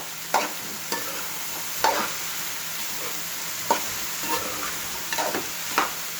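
Bottle gourd curry with garlic and chili powder sizzles softly on a low flame, a steady quiet frying hiss punctuated by about six sharp spoon-on-pan stirring knocks, close and without talking.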